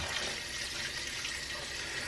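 Liquid pours steadily into a cooking pot for bone broth, a faint continuous rushing stream of water with no talking.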